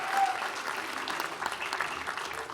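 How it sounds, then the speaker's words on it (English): At a county board of supervisors meeting, the room applauds sheriff's office and behavioral health staff, with moderate clapping that holds steady for a few seconds and a murmur of voices underneath. "Let's give them all a nice big round of applause"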